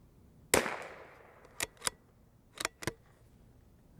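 A Savage B22 rimfire rifle fires several shots: one sharp crack with a decaying tail, then two quick pairs of shots, close and loud against a quiet background.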